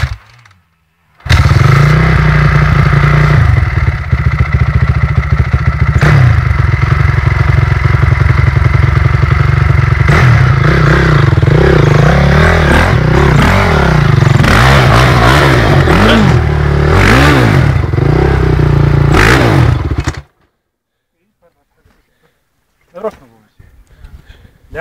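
A Honda CRF dirt bike stuck in mud revs hard and close for nearly twenty seconds, the engine droning and surging in repeated rising and falling pulls with clattering, before it abruptly cuts out.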